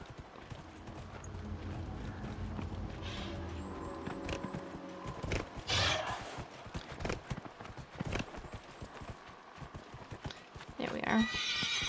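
In Dragon Age: Inquisition, a horse's hooves clip-clop at a gallop and it neighs, set against game ambience and occasional talk.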